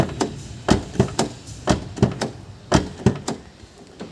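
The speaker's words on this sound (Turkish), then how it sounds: "Kapının açılıp kapanma sesine bakalım." A series of solid thuds and clunks, about a dozen, as the door of a 2011 Kia Ceed SW 1.6 CRDI is opened and shut repeatedly in an uneven rhythm, close by.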